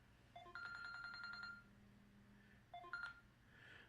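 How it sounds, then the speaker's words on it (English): An alarm on a mobile phone goes off in two short bursts of rapid electronic beeping tones, a longer run followed by a brief second burst, fairly faint and quiet in the room. "That's my alarm telling me to get up."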